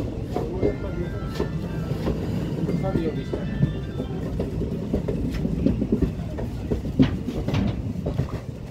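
A passenger train running on the Lumding line through hills and tunnels in Meghalaya: a steady rumbling roll with rhythmic wheel clacks and rattles heard from inside the carriage, with talk now and then.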